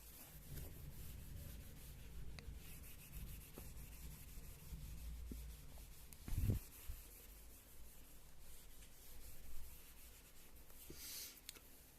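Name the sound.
rubbing out writing on a board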